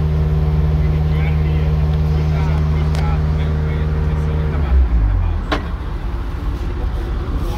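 Excavator engine running at a Finnish machinery show, a steady low diesel hum with strong harmonic drone that drops off near the end, with people talking over it.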